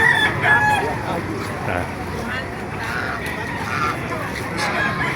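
A rooster crows over a noisy crowd of people talking at a chicken market in Baliuag, Bulacan, with other chickens clucking nearby in a busy, crowded space.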